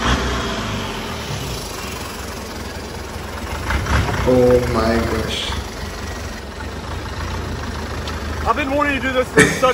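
Turbocharged longtail riverboat engine in Thailand running steadily with a loud rough drone under wind noise, while people talk over it.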